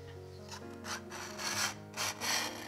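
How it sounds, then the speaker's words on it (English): A metal scraper pushes softened citrus paint stripper off a Rockwell mill in several slow, rasping strokes, each a short scratchy swell, quiet and close with no talking. "I'll leave you with a minute or two of footage of scraping off this citrus strip"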